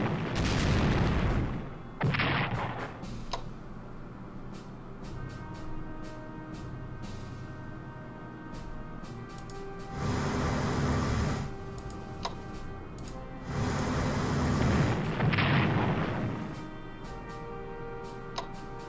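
Battleships shelling in the Strategic Command WWII strategy game, with several heavy booming salvos spaced apart amid quieter ticking interface clicks, loud and close, with no speech.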